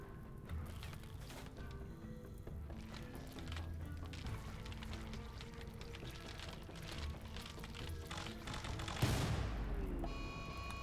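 Gunfire in RimWorld, faint rapid bursts of small-arms shots crackling over low game music, with a sharper, louder impact near the end.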